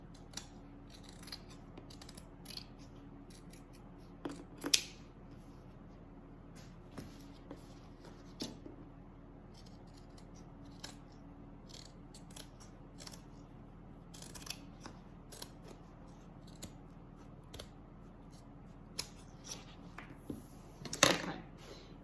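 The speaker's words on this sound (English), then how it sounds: "So now we're going to trim our zipper and go ahead and trim your pocket." Scissors snip through a zipper and pocket fabric while a handbag is being made, quiet and close, with a few sharp isolated cuts spaced out over a hushed room.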